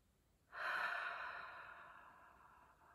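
Slow, deep exhalation of breath, close and quiet, starting abruptly and fading gradually over a couple of seconds with no talk.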